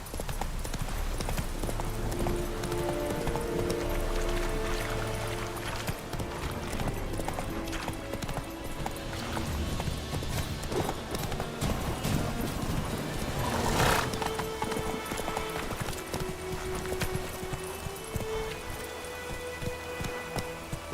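Geralt's horse Roach gallops in The Witcher 3, with steady loud hoofbeats, a whinny and rain falling over a dense game soundscape.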